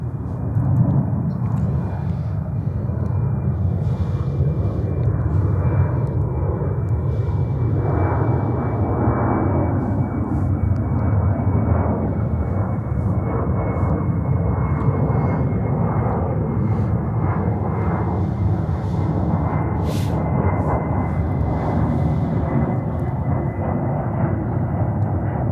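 A JetBlue jet airliner at JFK airport in New York roars steadily for about 25 seconds, a loud, continuous low rumble of jet engines with no talking over it.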